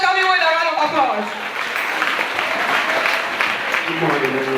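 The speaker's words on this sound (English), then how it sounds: "Let's welcome him with a round of applause." Sustained round of applause welcoming a speaker to the front, dense and steady, with a few voices and tonal sounds woven through the clapping.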